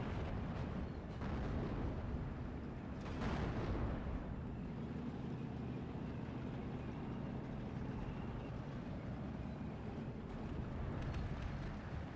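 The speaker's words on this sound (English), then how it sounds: "Starting to shell the northern town here" Artillery shells a town in the game Steel Division 2, with deep rumbling booms rolling over a continuous low battlefield roar, fairly faint and distant throughout.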